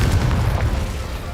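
A Confringo explosion spell in Hogwarts Legacy lands as a short, heavy boom with a rumbling low tail that fades within about a second.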